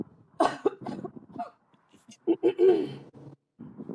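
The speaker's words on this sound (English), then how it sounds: "wait, let me cough" Someone coughs several times in quick, rough bursts, close to the listener, with a brief pause and a little throat clearing.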